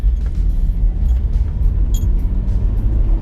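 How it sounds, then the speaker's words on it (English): A car's leaking exhaust drones low and heavy while driving, loud and close, with a few faint clicks over the rumble. "you can actually hear the exhaust"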